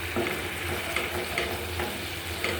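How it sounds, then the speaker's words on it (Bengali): Onion and garlic masala being sautéed and stirred in a pan for a rohu fish and pointed gourd curry, with a steady sizzle and repeated scraping stir strokes at close range. "আমি একদম সুন্দর করে কষিয়ে নিচ্ছি"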